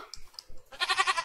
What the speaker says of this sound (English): It's a goat! So cute!